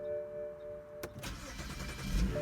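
A BMW 335 with the N54 engine cranks and fires up, a short starter whir followed by the engine catching and settling into a rough, building idle, close and fairly loud.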